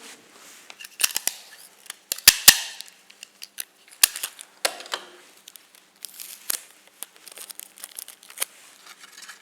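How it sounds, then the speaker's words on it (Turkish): Adhesive tape rips and crinkles as it is pulled and pressed onto a paper cube, a series of sharp, close tearing bursts and crackles with quiet gaps between them and no talking. "Şimdi bantlayalım."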